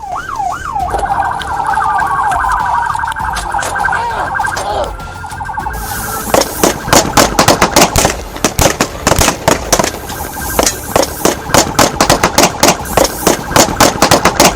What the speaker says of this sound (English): a fierce gunfight between both sides erupted instantly